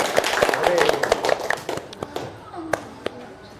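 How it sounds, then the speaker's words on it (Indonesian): A group in a classroom session claps their hands together in a short burst of quick, fairly close claps that trail off into a few scattered single claps. "Terima kasih, tepuk tangan semuanya."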